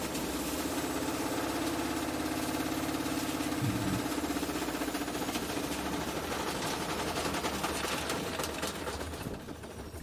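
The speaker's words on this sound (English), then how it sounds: "The action never stops when you put a brick in a washing machine." A washing machine with a brick inside spins hard, giving a loud, continuous mechanical drone and rattle with a steady vibrating hum that eases slightly near the end.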